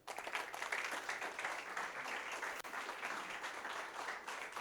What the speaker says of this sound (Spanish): Pido para ella un fuerte aplauso